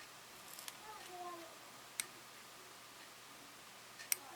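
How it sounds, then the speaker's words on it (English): Plastic excess is trimmed from a part of a Bandai 1:72 Macross VF-1J Super Valkyrie kit, giving two faint, sharp snips a couple of seconds apart in an otherwise quiet room. "Okay, so I'll just cut off the excess here."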